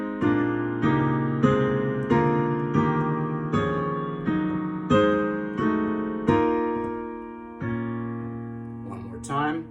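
A full section of a song on solo piano: roughly nine held chords struck one after another at a slow, even pace, the last one ringing out longest.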